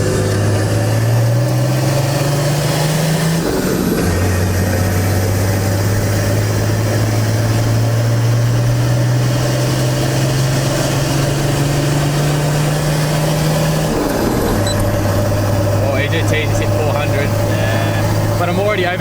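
A turbocharged Nissan Patrol with a TD42 diesel engine and a 3-inch straight-through exhaust pulls through the gears, its drone climbing in pitch, then dropping at each shift, loud and close inside the cab.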